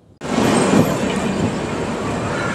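A train rolls into Azimganj Junction with a sudden onset of loud, steady rumbling and rattling, close and continuous with no talk.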